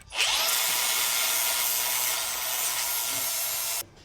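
Power tool cutting through car engine mounting bolts during a 1JZ engine swap into a 240sx, a steady loud high grinding whine running nearly four seconds, then stopping abruptly.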